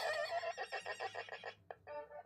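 An erhu imitates a horse neighing, a rapid series of pulsing, wavering bowed notes that slide downward, close and clear with no talk.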